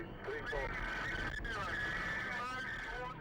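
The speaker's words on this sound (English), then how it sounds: "the tyre has also blown, meaning he's now driving on bare metal" A collision-damaged car whose tyre has blown drives on its bare metal wheel rim during a police chase, a sustained harsh grinding screech with rising and falling squeals over engine noise.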